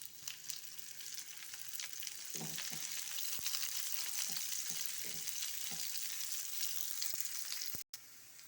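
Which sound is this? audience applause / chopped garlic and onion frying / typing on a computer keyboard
chopped garlic and onion frying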